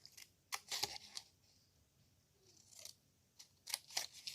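Scissors snip through paper while trimming a papercraft Halloween treat holder, with a few short crisp cuts in quick bursts at the start and end separated by a quiet gap, close and faint, no talking.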